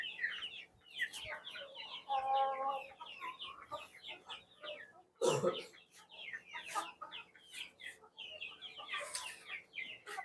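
Several free-range country chickens in a cattle shed cluck and chatter steadily throughout, with a sharper, louder squawk near the middle.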